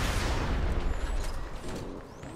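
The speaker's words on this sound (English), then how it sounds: "Oh, that was a big explosion." Big explosion in the video game Borderlands 2, a loud broadband boom with crackling debris that slowly decays over about two seconds, heard alone.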